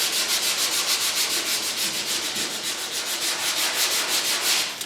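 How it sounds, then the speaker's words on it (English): Hand sanding over primer on a Mustang Mach 1 deck lid and quarter extension makes a close, rhythmic back-and-forth rasp of about four strokes per second, continuous with no talking. "And there's more sanding to do."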